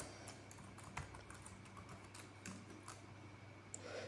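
Computer keyboard typing during a JavaScript coding session, a soft run of clustered key clicks over a steady low hum, close and fairly quiet with no voice.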